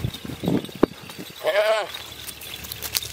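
A milking goat gives one clear, wavering bleat close by. Short rustles, a sharp knock and faint farmyard noise come before it.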